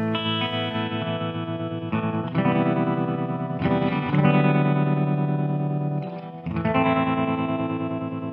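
A guitar or synth tone runs through a fast LFO modulation effect in the Neuro mobile app, producing a metallic, ring-modulator-like warble over sustained chords that change every couple of seconds, steady and moderately loud with no voices.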